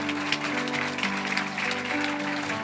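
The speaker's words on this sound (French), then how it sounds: "Give a hand clap unto the Lord" A church congregation claps continuously over sustained music, a dense, even wash of applause that holds steady throughout.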